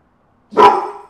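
A single sharp, loud dog bark rings out close by after a moment of silence, then fades quickly.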